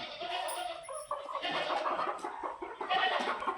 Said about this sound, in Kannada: ಯಾವ ಕೋಳಿ ಇದು? ನಾಟಿ ಕೋಳಿ.